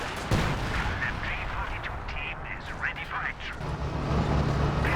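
Artillery in Company of Heroes 2 booms into a busy battlefield mix, one sharp blast near the start and then rumbling fire beneath a commentator's steady talk.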